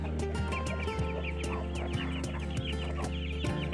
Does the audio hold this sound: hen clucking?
yes